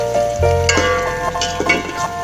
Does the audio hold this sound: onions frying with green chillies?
yes